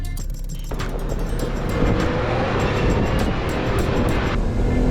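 A Toyota Land Cruiser 105 revs hard in second gear with both lockers on, roaring steadily and loudly off-road at high RPM throughout, with no speech over the engine.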